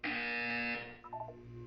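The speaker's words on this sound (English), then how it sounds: "You will hear a buzzer." A loud electronic buzzer from the video game Portal 2 sounds for under a second, then falls away to a short descending electronic tone and a low hum.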